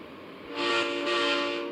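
A deep, steady Scania 113H truck horn in the video game Grand Truck Simulator blares twice in close succession, loud and sustained with a slightly synthetic tone, over a faint engine hum.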